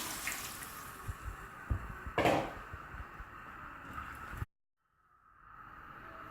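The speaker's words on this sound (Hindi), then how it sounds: "और साथ ही हम इसमें डाल देंगे पानी" Water runs and splashes into a pot of mutton stew with spices close by, a steady pouring sound that cuts off abruptly near the end.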